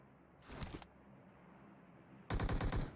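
Two short bursts of video game gunfire, the first brief and moderate, the second louder and rapid near the end, fired at a character named Kerem; quiet pause between bursts, no talking.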